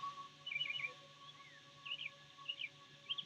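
Birds sing outdoors in faint, distant bursts of quick chirps, a few short phrases spaced across a quiet background with a low steady hum.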